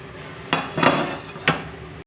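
Buttermilk sponge dosa set onto a plate in a home kitchen, giving two or three soft clinks and scrapes of utensil against plate over a low steady background, no talking.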